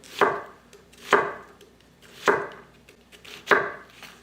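A knife chops red onion on a board in four distinct, evenly spaced thunks about a second apart, each a crisp close cut with a short woody ring, no voices.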